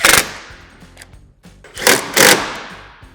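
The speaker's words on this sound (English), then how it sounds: "you can go ahead and fully tighten the hardware." Power tool tightening windshield mounting bolts on a Polaris Ranger XP 1000 during a flip-down glass windshield install, a few short loud close ratcheting bursts with brief pauses between.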